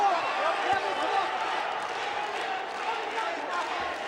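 Boxing arena crowd roaring in a steady, dense wash of cheering for Russian heavyweight Kuzmin during a Russia versus Kazakhstan bout against Hrgovic, with occasional claps and shouts rising from the mass.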